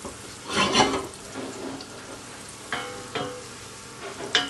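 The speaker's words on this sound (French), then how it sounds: "Quand le beurre est bien fondu, on met les poireaux" Leeks and onion go into melted butter in a saucepan for vichyssoise, giving a few bursts of soft sizzling and stirring, close and moderately quiet, without speech.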